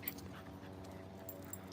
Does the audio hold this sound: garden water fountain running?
no